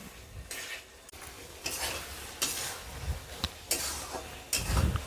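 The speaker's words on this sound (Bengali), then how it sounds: "আলু আর এই ঝিঙে গুঁড়োকে আমি একসাথে একটু ভালোভাবে নেড়ে চুড়ে ভেজে নেবো" Potato and ridge gourd are stirred in a sizzling pan, with repeated scraping strokes of a utensil rising over a steady frying hiss.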